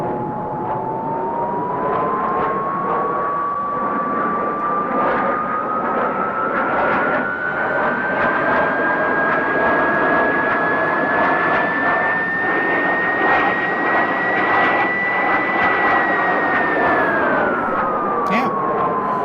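A loud, steady jet engine roar from a de Havilland Venom's Ghost engine in Microsoft Flight Simulator rises slowly in pitch as it spools up, holding a high whine before easing back down at the end.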